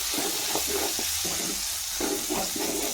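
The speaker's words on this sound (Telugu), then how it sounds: "మొత్తాన్ని బాగా మిక్స్ చేసుకోవాలి." Broad bean curry with garam masala being stirred in a pan, with steady sizzling and repeated scraping strokes of a spoon in a close, continuous rhythm, no talking.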